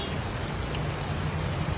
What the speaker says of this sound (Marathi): इथे खूप छानसा आणि मनाला दिलासा देणारा पाऊस चालू आहे